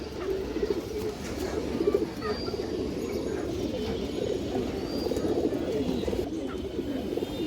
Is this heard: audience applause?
no